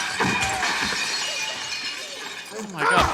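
Sugar glass shatters during a movie stunt in the action film Police Story, a bright crash with scattering debris under a steady roar of action noise, while people talk over it.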